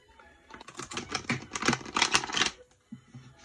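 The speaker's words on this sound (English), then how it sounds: "let's see how it shuffles" A quick burst of crisp riffling and flicking as a new, stiff tarot deck is shuffled close by, a rapid flurry of dry taps that stops and then briefly resumes.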